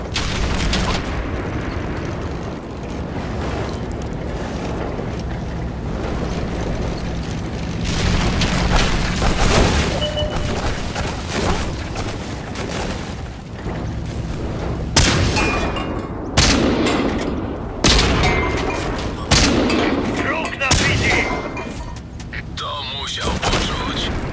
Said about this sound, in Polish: Doszło do strzału.